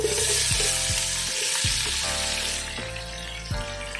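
Chopped onions frying in a pan on a medium flame, a steady close sizzle broken by periodic scraping stirs of the spatula at roughly half-second to one-second intervals, with no voices.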